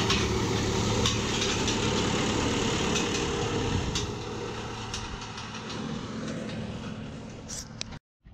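A John Deere 5090M tractor engine runs in a small field, a steady loud diesel rumble that eases slightly midway as it passes, then cuts off abruptly at the end.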